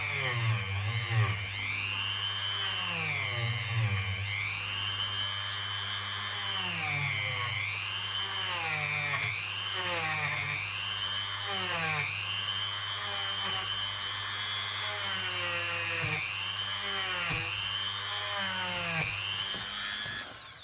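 A Barbados 25 cent coin from 1980 is ground into a ring with a power tool, making a loud, continuous whine that rises and falls in pitch in repeated sweeps.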